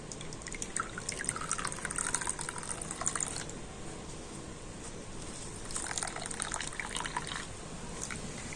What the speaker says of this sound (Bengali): তো হাত দিয়ে নিগড়ে ছানার মধ্যে যে এক্সট্রা জল আছে তো এইভাবে আমি বার করে দেব